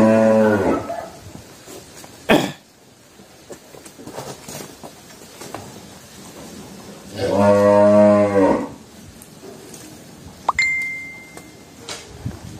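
French cream bulls on a Ben Tre cattle farm give two long, loud moos several seconds apart, with scattered metallic clinks and pings in between.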